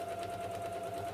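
A domestic sewing machine hums steadily and close while reverse top stitching near the edge of a fabric project envelope, a continuous whir with no speech.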